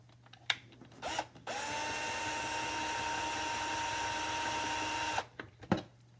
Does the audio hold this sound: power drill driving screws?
yes